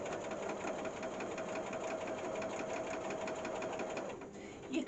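Domestic sewing machine running a straight stitch, a steady fast mechanical whir with rhythmic needle clatter at moderate level, stopping near the end with a small clunk.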